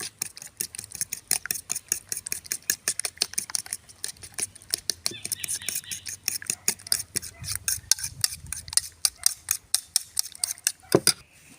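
Beaten egg with salt and pepper stirred briskly in a bowl, a fast steady run of close clinking utensil strikes against the bowl, continuing alone for several seconds.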